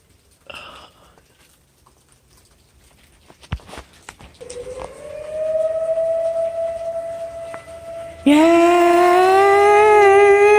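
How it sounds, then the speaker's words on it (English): Tornado warning sirens wail in the distance, a rising tone that swells louder partway through after scattered clicks and rumbles, steady and droning. "And the sirens as they go off cause tornado warning."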